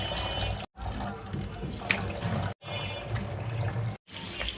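Taro (kochu) and taro stolon (loti) being rinsed by hand under running water, a steady splashing and trickling sound broken by a few short pauses, close and fairly loud.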